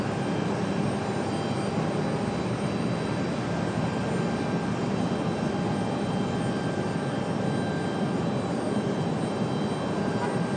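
JetBlue Airbus A320 jet arriving at Raleigh Durham from Fort Lauderdale, a constant distant engine rumble and hiss holding level throughout, no talk.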